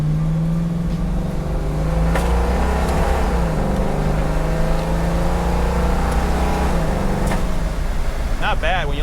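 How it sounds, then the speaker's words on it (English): A restored 1971 Ford Mustang Mach 1 with a 351 Ram Air V8 accelerates hard, a loud droning engine note with rising and shifting pitch sustained throughout, with a voice heard briefly near the end. "Okay, so let's test out the acceleration."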